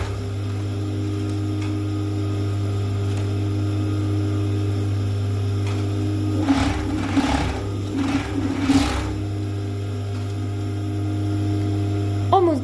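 An overlock sewing machine stitches the shoulder seams of a child's ribbed tracksuit, a couple of short buzzing runs rising over a constant loud mains hum.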